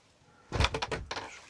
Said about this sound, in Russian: двери закрываются